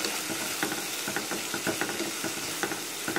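Sliced banana stem with turmeric powder being stirred in a hot pan: a close, steady sizzle with soft scraping and clatter from the spoon, and no talking.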